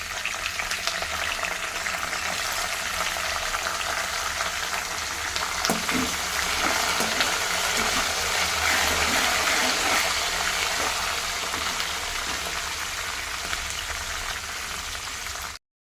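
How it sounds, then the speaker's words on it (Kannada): Curry leaves and green chillies crackle in hot oil while lemon rice is being made, a loud, dense, continuous frying hiss with bubbling and scattered pops and stirring knocks, no voices. "ಈಗ ನಾನು ಕರಿಬೇವಿನ ಸೊಪ್ಪು ಮತ್ತು ಹಸಿಮೆಣಸಿನ್ಕಾಯಿನ ಹಾಕ್ಕೊತಿದ್ದೀನಿ."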